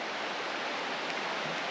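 Steady rushing water at a junction of a creek and a river, a continuous broadband wash flowing nearby, with no other sounds.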